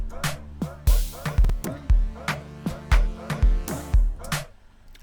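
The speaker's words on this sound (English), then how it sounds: "I do have a lead from GMS that sort of serves as a riser for the beat" A GMS synth lead used as a riser in a gqom-amapiano beat plays a punchy, repeating pattern of short plucked notes over thumping low hits, a steady groove of roughly two beats per second, alone with no talking.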